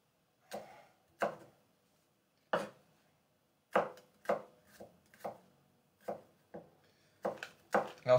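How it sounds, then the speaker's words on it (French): A knife chops vegetables for a homemade moussaka on a cutting board, with about a dozen crisp, separate strikes at an uneven pace, some paired closely, heard up close in a quiet room. "Et on coupe."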